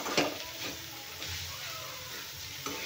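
Ivy gourd (tondli) pieces sizzle and fry dry in a pan with masala, a steady close crackle with a couple of stirring scrapes, no talking.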